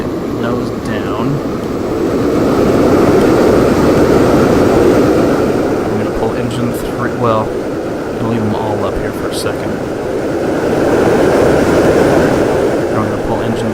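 Airliner engines throttled to full power in the Extreme Landings flight game, a steady broad roar with swelling loudness, heard beneath someone talking throughout.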